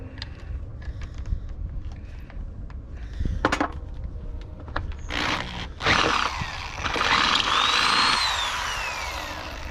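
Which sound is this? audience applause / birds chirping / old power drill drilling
old power drill drilling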